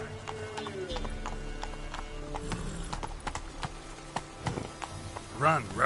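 Roach the horse gallops in The Witcher 3, with a brisk run of clear hoofbeats close up and a whinny near the end.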